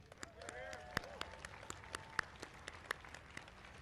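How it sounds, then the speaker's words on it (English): Scattered, sparse claps ring out at a Memorial Day parade gathering, a few distinct sharp hand claps spaced irregularly over a quiet outdoor background with faint tonal sounds, applauding the parade organizers. "A round of applause for the people that put this parade together."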